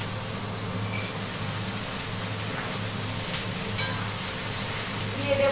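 Vegetables go into a pan of frying onions and sizzle with a steady, close, continuous hiss, broken by a few faint clinks and stirring sounds.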